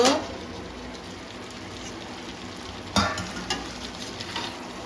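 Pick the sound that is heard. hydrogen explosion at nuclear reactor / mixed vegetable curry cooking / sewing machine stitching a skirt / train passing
mixed vegetable curry cooking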